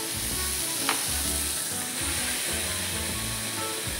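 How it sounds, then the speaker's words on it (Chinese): Seasoned ribeye steak, rubbed with salt, black pepper and oil, sizzling on a hot griddle pan at 230 degrees with a temperature probe inserted, a steady close crackling hiss broken by faint clinks. "牛排放上煎盘"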